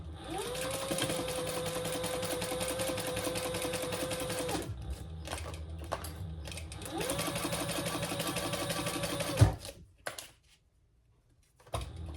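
Sewing machine stitching a full seam allowance on fabric for a large triple sling, steady rapid whirring runs about four seconds, pauses with a few clicks and handling noises, then a second burst of stitching stops abruptly near the end.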